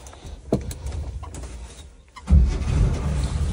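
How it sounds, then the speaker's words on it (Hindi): A Gypsy car engine cranks and catches after a few faint clicks and a quiet pause, then settles into a loud, steady low idle close by. "तो गाड़ी स्टार्ट करते हैं"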